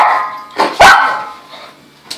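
A dog barks a few times, sharp separate barks over about two seconds, close and fairly loud, with no talk.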